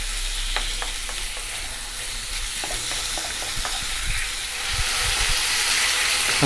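Strips of beef steak stir-fry in a hot pan for Chinese beef with baby corn, a loud, close, continuous sizzle with scattered scrapes and ticks as the meat is tossed, swelling louder toward the end, no talking.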